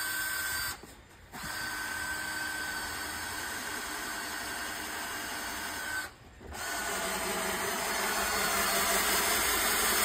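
A power drill drives screws into a wooden gate, its motor whining loud and steady in two long runs separated by short pauses, with no speech.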